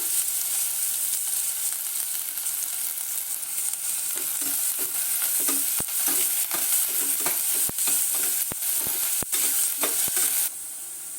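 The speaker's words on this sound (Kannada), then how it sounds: "ಕುಕ್ಕರಲ್ಲಿ 1-2 ಸ್ಪೂನ್ ಎಣ್ಣೆ ಹಾಕಿ ಸಣ್ಣಗೆ ಹೆಚ್ಕೊಂಡಿರುವಂಥ ಈರುಳ್ಳಿ 2 ಅದನ್ನು ಹಾಕಿ ಫ್ರೈ ಮಾಡ್ಕೊಳ್ಳೋಣ" Chopped onions frying in a spoonful or two of oil inside a pressure cooker, a loud continuous sizzle with irregular sharp clicks and scrapes from a spoon stirring, the sizzle fading slightly at the end.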